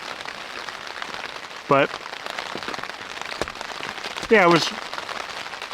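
Rain patters steadily outside in an even, soft hiss throughout, heard close behind someone speaking briefly.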